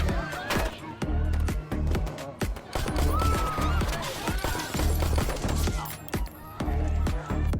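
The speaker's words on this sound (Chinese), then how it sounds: "随即双方就发生了激烈的枪战" Dense, rapid gunfire from an intense gunfight in a crowded small square during a film chase, shots crackling in quick bursts over a loud music score and chaotic background din throughout.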